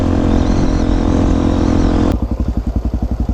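A motorcycle ridden at night on a dark road, its engine a loud close continuous roar that drops abruptly to a rhythmic, pulsing idle-like chug.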